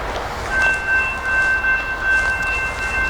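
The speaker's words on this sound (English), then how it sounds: "Oh, the train's coming through." A train rolls past near a historic cemetery in Derry Township, Hershey, Pennsylvania, giving a steady low rumble with a thin, sustained high squeal running through it, continuous and fairly close, with no talking.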